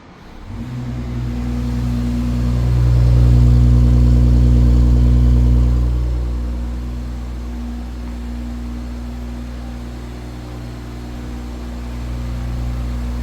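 A 2026 BMW X5 xDrive40i engine cranks and starts by remote start nearby, revs up for a few seconds, then settles into a steady low idle. No one speaks.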